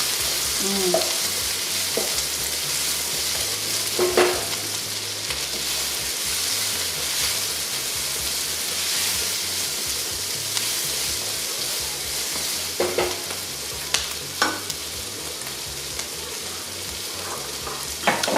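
Cumin seeds frying for a lamb curry sizzle steadily and loudly in a hot pot, with occasional stirring scrapes and spoon clinks, and no talk.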